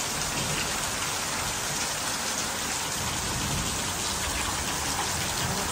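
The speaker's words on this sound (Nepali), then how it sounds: "यस्तो हातै पानी परिरहेको छ नि." A heavy rain downpour makes a dense, loud, unbroken hiss that stays constant for the whole stretch, with no voices.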